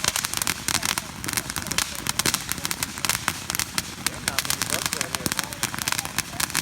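Fourth of July fireworks and firecrackers popping and crackling in a dense, continuous barrage, several going off at once, with people talking over the noise.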